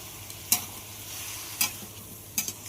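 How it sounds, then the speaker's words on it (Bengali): Hand-mixed vegetables stir-frying over high heat, a soft steady sizzle broken by three sharp spatula scrapes against the pan, close and without talk. "সবজিটাকে খুব ভালো করে কষিয়ে নিতে হবে"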